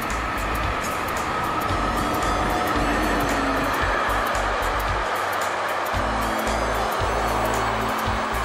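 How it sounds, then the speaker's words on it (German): Long, heavy freight trains rumble past steadily in the Rhine-Neckar region, with low rolling noise and rhythmic clatter of wheels on rail joints. The sound is continuous and moderately loud. "In alle Himmelsrichtungen rollen die schweren und langen Züge durch die Region."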